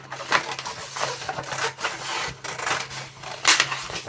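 Paper edge of a junk journal page being trimmed, giving a series of close, scratchy rubbing and cutting strokes in irregular bursts with a faint steady hum beneath.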